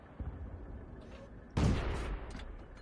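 A single heavy cannon shot from the T2 Medium tank's gun in World of Tanks lands as one loud boom with a short rumbling tail, following a quieter opening.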